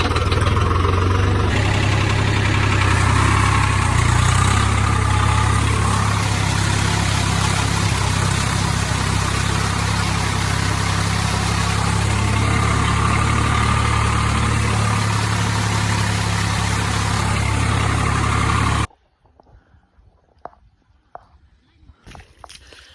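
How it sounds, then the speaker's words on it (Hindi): Tractor driven back and forth to level a field on a large farm, its engine a loud, steady low drone for about nineteen seconds that cuts off abruptly, leaving only faint scattered sounds. "चलो भाई थोड़ा बहुत ट्रैक्टर घुसा के आगे पीछे चलाते हैं,"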